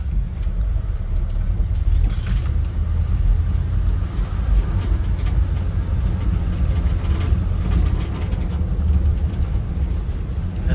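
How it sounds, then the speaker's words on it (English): Old abandoned Ford F100 pickup truck running and driving, a steady loud engine and road rumble with rattling body noise throughout, no talking. "Running and driving, running and driving."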